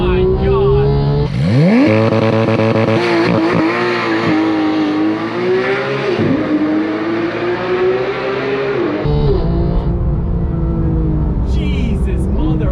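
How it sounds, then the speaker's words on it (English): A Porsche 991.2 GT3 launches under launch control, its engine screaming up through the revs with rising tones and quick gear changes before easing off, heard loud from inside the cabin over occasional voices. "Launch control in the GT3."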